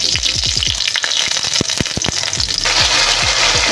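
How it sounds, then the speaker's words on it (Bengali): Bay leaf, dried red chilli and whole cumin spluttering in hot mustard oil, loud close crackling pops over a continuous sizzle that thickens toward the end, with no talking. "সর্ষের তেল দিয়ে তেজপাতা, শুকনো লঙ্কা আর গোটা জিরে ফোড়ন দিয়েছি"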